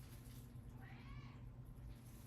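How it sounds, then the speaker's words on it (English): A cat meows once, a faint, drawn-out cry over a steady low hum, heard alone with no talking. "Actually, it's a cat."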